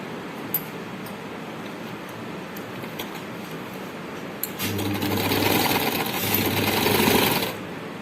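A sewing machine stitches a strip onto a tulip shalwar, starting after a quiet handling stretch and running in a steady, close whir for about three seconds before stopping.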